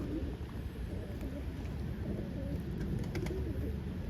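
Soft pigeon cooing amid a steady low rumble of wind or background noise, faint and continuous throughout.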